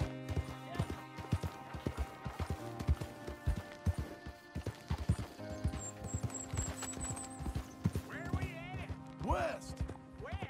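Horse hooves clip-clop in an irregular gallop in Red Dead Redemption 2, close and rhythmic over low game music, with a horse snorting near the end and some talk.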